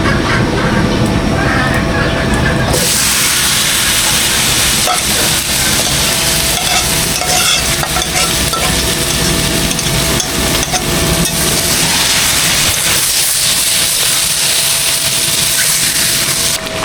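Meat tipped into a pan of fried onions, a loud continuous sizzle with clattering and stirring scrapes, some speech mixed in.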